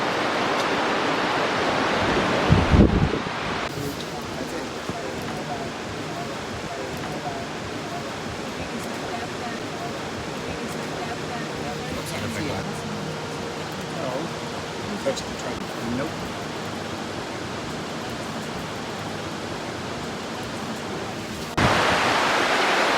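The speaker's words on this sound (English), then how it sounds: "There's a better shot of the falls." Waterfall at Grassington in Yorkshire, a steady broadband rush of falling water heard from a sheltered cave-like spot, continuous and fairly loud, with brief bumps of handling and occasional faint voices.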